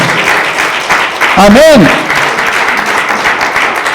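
Congregation clapping in a church service: a broad wash of applause runs throughout, while a voice calls out and briefly sings over it partway through.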